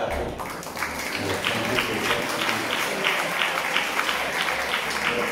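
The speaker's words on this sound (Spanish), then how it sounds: "Un aplauso a nuestra querida red de arte." Audience applause at the inauguration of a mural dedicated to a writer, a steady wash of clapping at moderate loudness with a faint murmur of voices mixed in.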